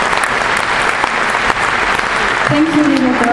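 Sustained applause from a festival audience cheering children on stage at an outdoor liberation festival, steady dense clapping throughout, with a brief tonal voice-like sound rising near the end.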